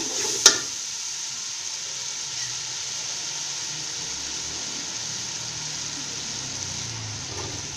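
Spices and paste frying in a pan for vegetable pulao, a steady soft sizzle running throughout with a sharp clink near the start and faint stirring scrapes.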